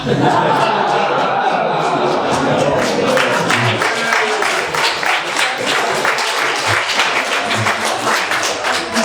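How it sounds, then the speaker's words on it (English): Sustained applause from an indoor audience at a 90th birthday party, greeting a curling medal winner back from Sochi; dense, even clapping throughout, loud and close, with scattered taps and thuds. "You're going to have to clap again"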